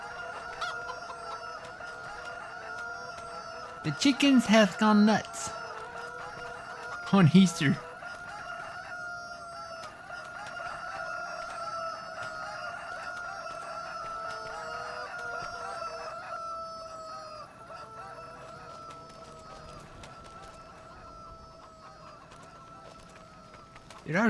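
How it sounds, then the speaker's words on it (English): Farmyard chickens in Farming Simulator 25 cluck and crow repeatedly, with two loud bursts of squawking early on over a steady hum, and a brief voice mid-clip. "The chickens have gone nuts."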